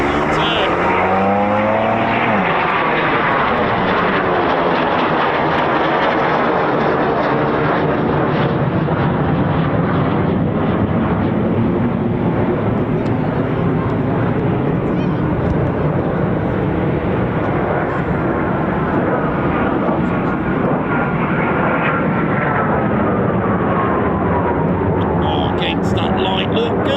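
A Eurofighter Typhoon FGR4 jet roars past at close range, a loud, sustained engine howl that swells and shifts in pitch as it passes, then gradually fades over nearly half a minute.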